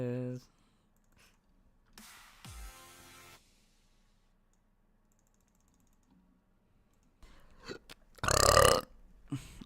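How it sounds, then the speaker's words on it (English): Burping into a microphone, with a short burp early on, then quiet keyboard typing and clicks, and a loud, close, drawn-out belch near the end. "Him and his burping."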